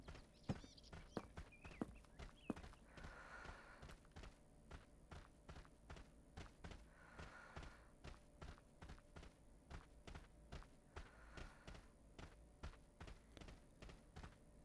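Footsteps in Dark Souls Remastered: a steady, even run of hollow clopping steps that keeps going for the whole stretch, faint and low in level, with a few sharper knocks near the start and no talk.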